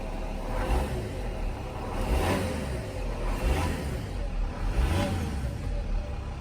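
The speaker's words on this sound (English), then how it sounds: "Gonna go ahead and give it a few revs." A 2006 Mercedes OM648 diesel engine revving a few times, rising and falling in steady low-pitched surges, close and fairly loud with no talking.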